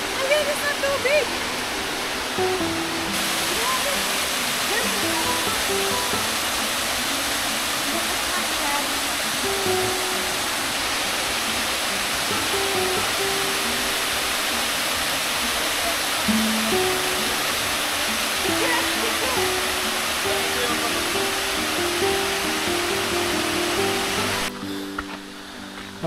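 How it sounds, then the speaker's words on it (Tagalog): Nalalata Falls in Camarines Sur, Bicol, rushes steadily as a broad, dense roar of falling water that stays loud and unbroken throughout, with no voices on top. "nakita nyo na yung Nalalata Falls"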